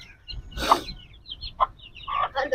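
Chickens cluck and squawk in short bursts as a hen and chicks are herded indoors at a farmhouse haveli, close and fairly loud, with irregular gaps between calls and no speech.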